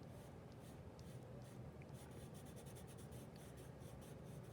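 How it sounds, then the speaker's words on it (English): Pencil shading strokes on paper while drawing hair, a steady close scratchy rubbing that continues without pause, the strokes repeating in quick even passes. "I'm still going the direction that I think that the hair is going with my pencil."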